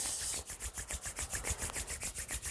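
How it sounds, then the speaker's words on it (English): Palms rub briskly together in a quick, even back-and-forth rhythm of about a dozen strokes, close and soft, with no talking. "Rub your palms."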